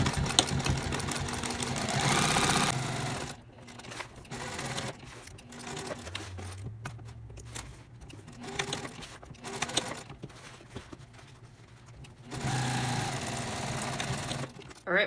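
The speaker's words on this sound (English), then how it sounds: "restart your stitches here and then stitch all the way up to close this pocket" A sewing machine stitching closed a tote bag pocket, with bursts of fast whirring needle noise at the start and end, separated by a quieter stretch of clicks and handling sounds; no voices.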